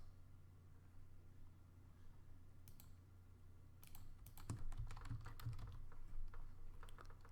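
Someone types on a computer keyboard while entering a name during spreadsheet work. The key presses are quiet and come in quick, uneven clusters over a low background hum, mostly in the second half.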